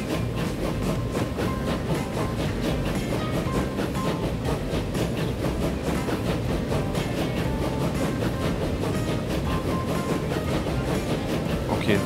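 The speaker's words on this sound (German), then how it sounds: "Zug 7 wechselt über aufs richtige Gleis, obwohl er jetzt gleich wieder zurückwechselt." A train in the railway-building game Transport Fever rolls steadily along its track, giving a continuous, fairly loud rumble with faint rhythmic clatter for the whole stretch, with no talk over it.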